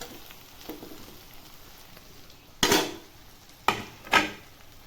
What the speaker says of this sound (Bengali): ভেজে রাখা আলু দিয়ে এবার এই আলু আর চর্বিটা আমি ভালো করে কষিয়ে নেবো মশলার সাথে